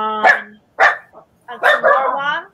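Dogs at home bark in short, sharp bursts close by, mixed with someone speaking briefly between the barks.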